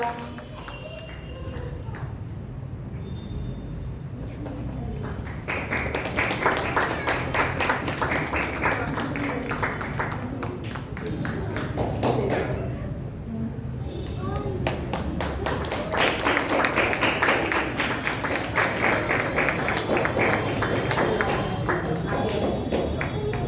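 Applause for a child performer at a junior Arya Samaj kids' programme in Bangalore comes in two long rounds of brisk clapping, with people talking before, between and over it.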